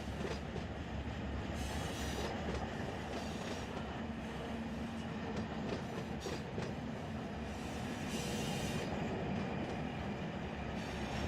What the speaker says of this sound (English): Once the end of the train comes through, we'll close the switch